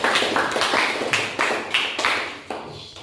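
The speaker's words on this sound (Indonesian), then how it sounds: "Oke, beri aplaus untuk Idin." Classroom audience applauding for a student named Idin, a few people clapping in uneven bursts, close and fairly loud, each burst fading quickly before the next, with no talking over it.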